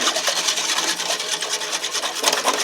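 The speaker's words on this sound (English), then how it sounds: "So now you just whisk this into your tea mixture" A whisk beating briskly into a spearmint tea mixture for jelly, a fast, continuous scratchy rhythm of rapid strokes, close and fairly loud with no talking.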